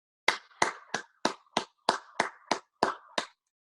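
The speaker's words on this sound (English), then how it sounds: "I think we all owe a little hand of applause" A small group at a Rotary club meeting gives a brief round of applause for the club president, about ten distinct, evenly spaced claps over three seconds, fairly close and clear with no talk.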